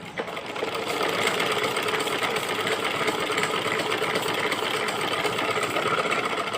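Sewing machine stitching fabric for a kachli, a steady buzzing whir that starts after a brief pause and runs continuously at an even pace, fairly close.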